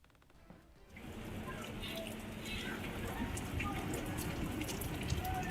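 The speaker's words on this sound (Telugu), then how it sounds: "విజయవాడలో భారీగా వర్షం కురుస్తోంది" Heavy rain falls steadily in Vijayawada as a dense, continuous wash that swells in after a quieter first second and holds loud to the end, with no talking.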